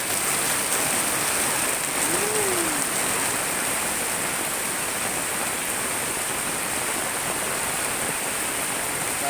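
Heavy tropical rain pours down in Cikarang onto flooded streets, a loud, dense, continuous hiss of water with no break and no voices.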